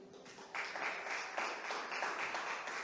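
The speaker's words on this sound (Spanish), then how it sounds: "Recibimos a Viviana con un fuerte aplauso" Steady applause from a crowd at a scientific talk, a dense wash of many hands clapping at moderate volume, continuing throughout with no voices.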